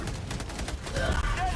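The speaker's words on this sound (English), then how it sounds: "That's a cannon turret." A cannon turret firing in the video game Helldivers 2, a rapid fusillade of booming shots and explosions layered over game noise, with a voice briefly audible.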